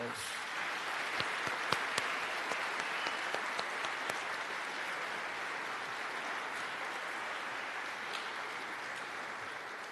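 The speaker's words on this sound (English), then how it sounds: "Let's give Brian a round of applause." Audience at a police and community gathering at 1 Police Plaza applauds an honoree named Brian; steady, dense clapping from a crowd sustained for about ten seconds, with a few sharper individual claps standing out.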